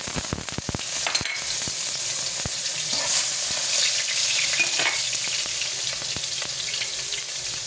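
Ginger dropped into hot cooking oil sizzles loudly and continuously, a dense hiss with some sharp crackles and pops near the start and a few scattered spits after.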